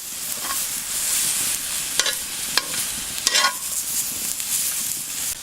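Bacon, Brussels sprouts, red onion, balsamic vinegar and raisins stirred in a pan over a campfire, a steady close sizzle broken by a few short scraping strokes of the utensil.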